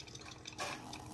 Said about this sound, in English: my coffee is being made